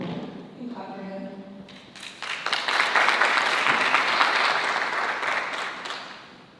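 An audience at a panel discussion summit claps to welcome a speaker back to the stage. A voice talks briefly at first, then the applause swells into a loud, sustained wash of many hands and fades slightly toward the end.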